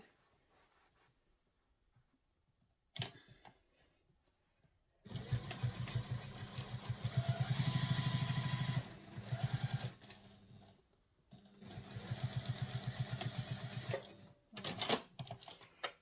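A sewing machine stitches a handbag in two long rapid bursts of steady mechanical chattering, separated by quiet pauses, with a brief click early on and short stops and starts near the end.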